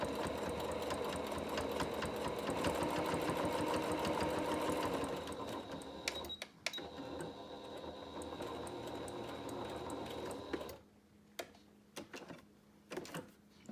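A sewing machine stitches a medical mask in a steady, close mechanical whir with a fast needle patter, slowing and pausing near the end with a few short restarts.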